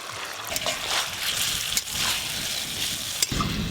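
Fried potatoes go into a Bengali fish curry whose masala has been well cooked down, setting off a steady, close sizzle with a watery bubbling edge and a brief louder burst near the end.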